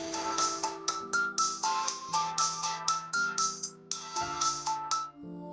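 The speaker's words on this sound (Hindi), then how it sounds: "बड़े सरकार का फिर से फोन आया है।" A phone rings with an incoming call, a bright melodic ringtone of quick repeating notes, loud and close with no voices over it.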